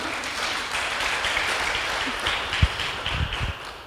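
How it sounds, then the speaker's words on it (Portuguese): Audience applause at a church women's service, a dense sustained wash of clapping from many hands at moderate volume, with a few louder claps standing out near the end. "Uma salva de palmas para ela."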